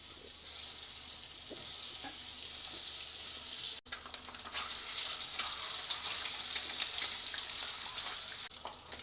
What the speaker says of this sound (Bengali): আমরা মিডিয়াম ফ্লেম করে আর ডিমগুলোকে ফ্রাই করে নেব।